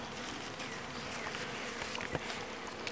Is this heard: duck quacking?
no